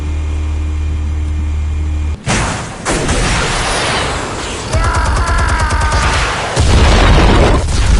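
Heavy explosions in Batman Telltale, Realm of Shadows: a loud deep blast after a low hum, then sustained roaring debris and rumble, with a second surge of booms near the end, no talk.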